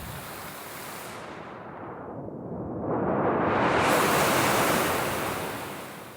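An ocean waves sample played on a Synthstrom Deluge brings a broad rushing surge that swells to a loud crest and then recedes, steady noise with no voices.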